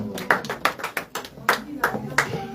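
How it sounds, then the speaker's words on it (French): A church congregation applauding at a service, sharp scattered hand claps in loose bursts from a nearby group, with voices mixed in under them. "On acclame la parole, on va s'asseoir."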